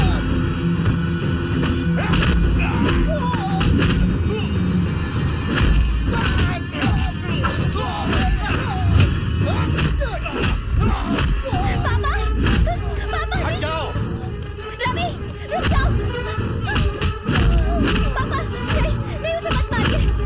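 Punches and heavy thuds land in a Hindi-dubbed South Indian comedy movie fight scene, sharp hits scattered through a steady din of shouting voices, music and crowd noise.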